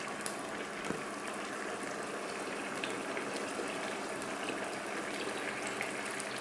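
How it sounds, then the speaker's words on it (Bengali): Water poured into washed moong dal in a pan for a fish-head muri ghonto gives a steady, even rushing splash that holds evenly for several seconds, close by, with no voices. "এখন দিয়ে দেব পরিমাণ মতো পানি।"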